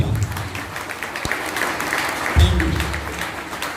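A seminar audience breaks into applause after a speaker's call to clap, a dense, steady patter filling the room throughout, with a brief swell partway through.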